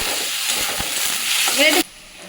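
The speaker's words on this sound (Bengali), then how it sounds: "আচ্ছা, পেঁয়াজ রসুনটা ভাজা ভাজা হয়ে গেছে" Chopped garlic and onion fry in a pan with a steady, close sizzle that cuts off abruptly near the end.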